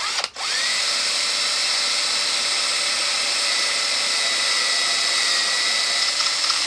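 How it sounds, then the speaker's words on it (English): A power drill with a long 1/8-inch installer bit boring at an angle through a guitar body's post hole into the control cavity; a loud, steady whine runs continuously after a brief start. "I'm going to go down in this post hole right here and drill it at an angle over into my control cavity."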